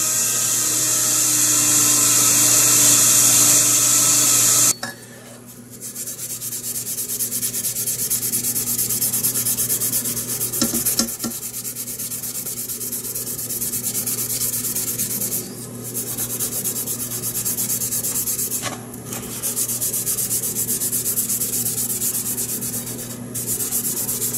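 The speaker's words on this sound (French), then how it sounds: "ce que j'utilise ici, c'est un espèce de tampon à récurer." Scouring pad scrubbing the metal surface of a lawnmower engine, a steady close rasping rub after an opening burst of louder noise, with a few brief breaks in the strokes.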